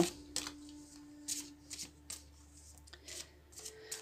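Tarot cards are shuffled for a reading, giving close, crisp riffling bursts that come in quick repeated handfuls at a quiet level with no voice over them.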